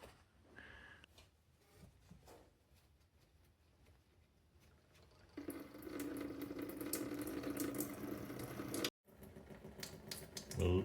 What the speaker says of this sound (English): loosen the tap and let it drain out for a while